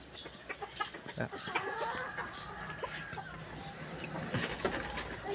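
Chickens cluck and call amid a busy outdoor backdrop, with other birds chirping and faint voices at a distance; a small flock.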